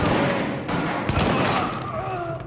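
Gunfire in Tom Clancy's The Division during the open beta, with a dense burst of shots and thuds at first, then scattered single shots and louder impacts near the middle over a constant game background hum.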